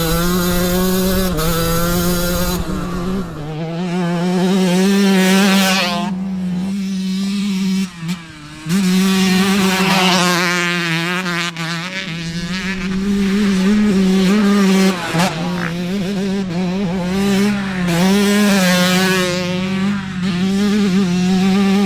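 A 1992 Kawasaki 125cc two-stroke dirt bike being ridden, its engine screaming steadily at high revs with rising and falling pitch as the rider shifts and rolls the throttle, close and loud throughout.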